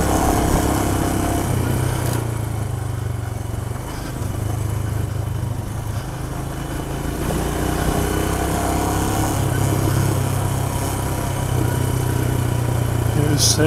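Royal Enfield Himalayan motorcycle powering through sand on a remote track, a steady loud engine drone with low rumble throughout, slight dips in intensity as it works through the soft ground.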